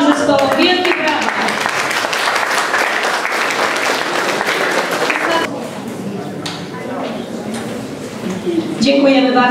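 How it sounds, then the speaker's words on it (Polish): An audience applauds the theatre groups at a rural theatre festival, loud continuous clapping with a voice speaking over it at the start, easing briefly midway before swelling again. "Wielkie brawa!"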